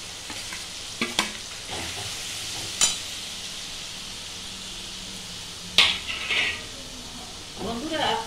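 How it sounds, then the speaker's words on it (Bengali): Garlic is stirred slowly in hot mustard oil for a home-cooked garlic pickle, a soft continuous sizzle with occasional scraping clinks and sharper spits near the end, heard close with no talk over it. "রসুনটা দিয়ে যে তেলের যা গরম আছে, এই গরমে একটুখানি আস্তে আস্তে নাড়াচাড়া করবো 10 মিনিটের মতো"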